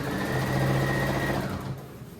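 A sewing machine zigzag stitches a pant leg in stretchy material, a fast close motor whir with rapid needle chatter, steady for about a second and a half before slowing to a stop.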